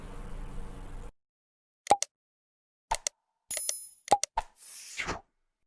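Short bright bell-like dings and plops from a notification sound effect, several separate hits spaced across a few seconds after a brief burst of noise, ending with a soft shimmering swell.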